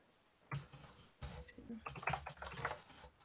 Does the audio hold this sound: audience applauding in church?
no